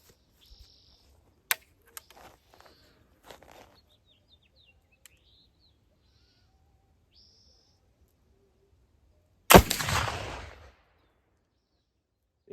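A homemade black powder test shot goes off outdoors: after near silence with faint birds and insects, one sudden loud whooshing burst flares up and fades over about a second.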